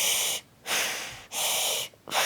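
Wim Hof method breathing: two deep, forceful breaths drawn in and released close to the mic, each a loud rushing whoosh followed by a short pause, the start of a third at the end.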